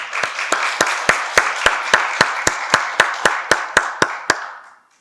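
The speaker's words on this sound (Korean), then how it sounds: "저희 안나스타샤를 응원하는 마음으로 박수 한번 쳐보면 어떨까요?" A church mission-service congregation claps for Anastasia in loud, steady unison, about sixteen evenly spaced claps that then fade out.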